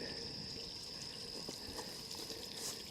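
A mountain spring flows beside the Appalachian Trail in Shenandoah National Park, a quiet, continuous trickle and splash of running water heard alone without talk.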